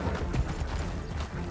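A horse's hooves clip-clop in a steady, uneven patter amid dense outdoor noise, fairly loud and close with no clear talk over them.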